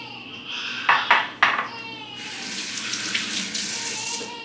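Tap water running into a sink while rinsing meat in a home kitchen, a few quick splashes and clinks, then a steady loud hissing stream close by, no talk.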